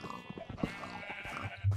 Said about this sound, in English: Oh, we've got sheep everywhere.